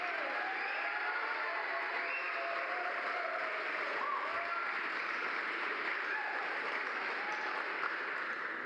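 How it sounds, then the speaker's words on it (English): An event audience gives a sustained round of applause for Kara Jones at a pitch-finals night, thick continuous clapping with faint crowd murmur underneath, even and unbroken. "Maybe one more round of applause for our resident badass,"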